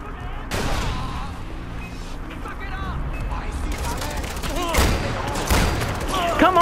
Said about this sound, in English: my shotgun's so auto-aim